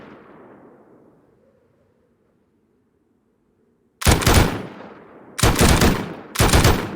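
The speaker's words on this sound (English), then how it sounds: "Bounce of this gun is mental." Automatic gunfire from a gun in the video game Rust: after a fading tail and near silence, three loud close bursts of rapid shots ring out, each burst lasting under a second.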